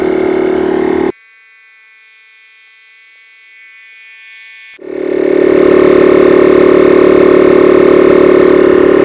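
An OutdoorMaster Dolphin electric SUP paddleboard pump runs with a loud, steady motor drone. It cuts to a thin, quiet whine for several seconds, then roars back up to full, close running.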